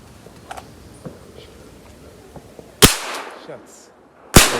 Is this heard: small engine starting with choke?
no